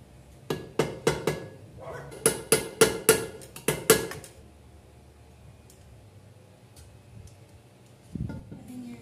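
Sharp metallic hammer blows knocking out a Suzuki Raider 150 front wheel bearing ring out in two quick bursts of about four and five strikes, close and loud, followed by quiet and a faint shuffle.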